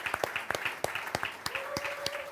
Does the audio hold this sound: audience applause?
yes